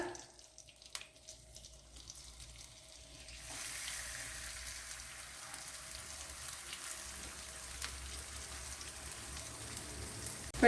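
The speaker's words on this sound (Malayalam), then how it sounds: "ഞാനിപ്പോൾ കുറച്ച് വെളിച്ചെണ്ണ ഒഴിച്ചു കൊടുത്ത് അതിലാണ് ഫ്രൈ ചെയ്തെടുക്കുന്നത്." Bitter gourd pieces fry in hot coconut oil, a faint quiet stretch giving way at about three and a half seconds to a steady, fine crackling sizzle that holds evenly to the end, close by and with no talking.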